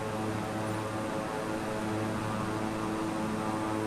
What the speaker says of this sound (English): Let's slow the plane down a little bit.